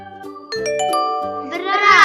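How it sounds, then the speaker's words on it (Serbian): A cat's meow rises at the end of a children's farm-animal guessing quiz, following a stretch of stepped musical tones. "Jeste, pogodili ste, to je mačka."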